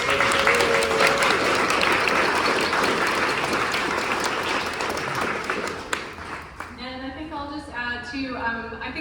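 A seated audience gives a round of applause for jurors and artists at an exhibition talk, a broad sustained wash of clapping that fades out after about six seconds as a voice begins speaking.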